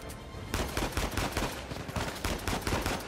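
Rapid automatic gunfire in the shooter game Uncharted 4, dense bursts of shots crackling continuously and loud with no clear pauses.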